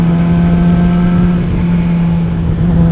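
A 2018 Yamaha R6 motorcycle rides steadily with a loud, close, continuous engine drone, holding a constant pitch while running in fifth gear.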